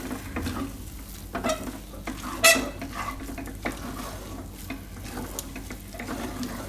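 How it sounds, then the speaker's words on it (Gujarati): Moong dal paratha stuffing seasoned with amchur powder is stirred in a pan, with a steady low sizzle and repeated scraping and clinking of a spoon against metal throughout. "આ રીતે થોડીક વાર ફેરવી લેવાનું"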